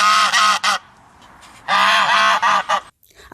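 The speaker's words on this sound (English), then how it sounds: "geese also aid at maintaining security by making loud noises whenever an intruder enters a home compound" Domestic geese give loud, close honking calls in two bursts of repeated honks separated by a short pause.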